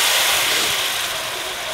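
Water poured into a hot pan of home-ground garam masala with cumin, cinnamon, black cardamom, cloves and black pepper hisses in a loud, steady burst of steam that tapers slightly over under two seconds, with no voices.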